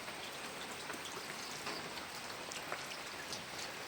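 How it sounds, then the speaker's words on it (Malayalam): Dense, steady downpour of heavy rain drumming on surfaces, constant and unbroken. "ഇപ്പോൾ നിറയെ മഴയായതുകൊണ്ട് മുറ്റത്തോട്ട് ഇറങ്ങാൻ പറ്റുന്നില്ല ഭയങ്കര മഴയാണ്"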